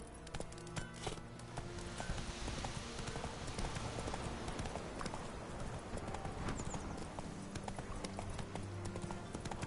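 Roach, the horse in the Witcher video game, trots with a steady, rhythmic clip-clop of hooves over a busy, full background of game ambience.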